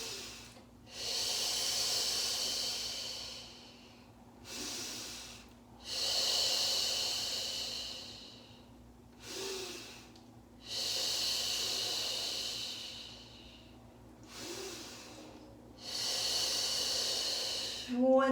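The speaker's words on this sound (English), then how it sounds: "2 breaths up, 2 breaths down." Audible breathing during a Pilates mat exercise: four long, hissing exhalations of a few seconds each, separated by short pauses and quick inhales, close and steady, with a faint low hum underneath.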